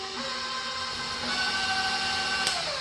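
An electric stand mixer with a whisk attachment runs on a low setting, beating cream cheese frosting with powdered sugar for red velvet cupcakes: a steady, close mechanical whir with a faint tonal hum and no talking.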